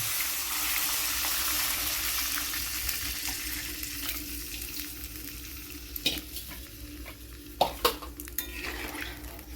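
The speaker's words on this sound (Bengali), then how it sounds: "এবার এর মধ্যে আমি জল অ্যাড করে দেবো।" Stirring and sizzling from a pot of green mango for Bengali kancha aamer tok, then water poured in with a few sharp clanks of a utensil against the pot, close and with no voices.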